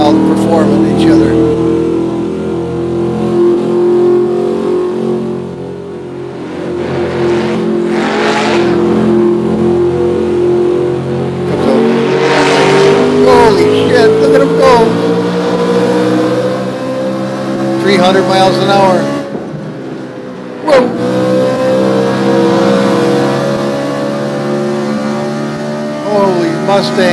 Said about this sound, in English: Mustang, look at that thing go